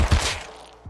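A short burst of gunfire from a modified weapon in the survival game Rust, one or two punchy thumping shots at the start with a dull echoing tail, no metallic ring.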